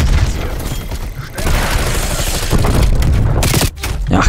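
A grenade explosion in Call of Duty Black Ops Cold War multiplayer, a loud close boom with a dense roaring rumble that cuts off abruptly near the end, amid gunfire.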